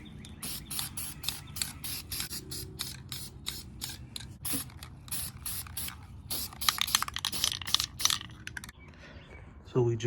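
Aerosol can of VHT primer hisses in repeated short bursts onto an SRT4 intake manifold, close and crisp, with pauses and small clicks and handling noises between sprays.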